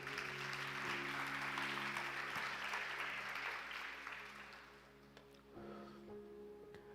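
Congregation applause at a Portuguese-language church sermon, a dense wash of many hands clapping at moderate distance that swells, then thins and fades toward the end, with low sustained music underneath.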